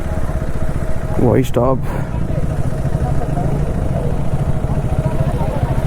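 A KTM Adventure 390 motorcycle engine runs with a loud, steady rumble close by at a night camp, with people talking briefly over it.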